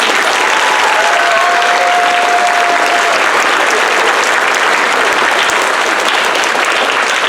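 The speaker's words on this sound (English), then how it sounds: "applause, please" Large crowd applauding at a Veterans Day program, loud sustained clapping from many hands filling the hall evenly from start to finish, with a faint brief whistle-like tone early on.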